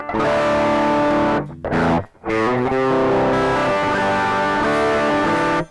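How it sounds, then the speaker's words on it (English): Sustained distorted electric guitar chords through a Donner Dark Mouse mini distortion pedal ring out loud and gritty, with two brief gaps where the strings are muted before strumming resumes. "So if I were to use this as a light distortion"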